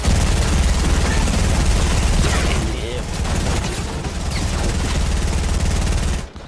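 Dense, continuous rapid hand cannon gunfire in a zombie video game, with booming low end, sustained for several seconds before cutting off abruptly near the end.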